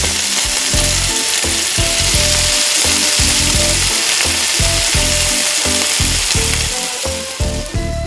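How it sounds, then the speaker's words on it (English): Fish frying in a pan of plenty of hot cooking oil, a loud continuous sizzle and crackle with rhythmic bursts of spattering throughout, no talking. "Drop the fish into the pan. Fry both sides until golden brown, then take the fish out"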